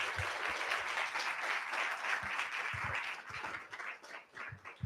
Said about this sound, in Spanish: Sí, pues un aplauso, ¿verdad?